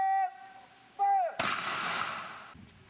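A single loud musket shot fired from a sentry position at a reconstructed 17th-century fort, a sharp blast with a long rough decay, preceded by brief tonal whistling sounds.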